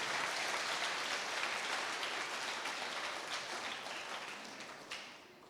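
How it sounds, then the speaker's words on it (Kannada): An audience at a Christian sermon claps loudly, a dense, continuous wash of applause that gradually thins and fades toward the end, with no talk over it. "ತಟ್ಟಿ, ಪರವಾಗಿಲ್ಲ, ಜೋರಾಗಿ ತಟ್ಟಿ ನೋಡೋಣ ಒಂದ್ಸರಿ"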